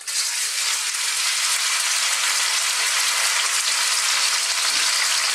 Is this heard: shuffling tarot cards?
no